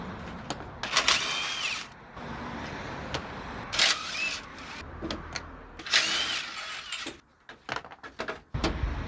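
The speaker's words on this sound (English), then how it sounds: "Now there's a bunch of bolts in the face of it. I'm going to go ahead and take those out as well." A ratchet clicks and whirs in short bursts, loosening bolts from the face of a car radiator, with metallic handling noises and brief pauses between bursts.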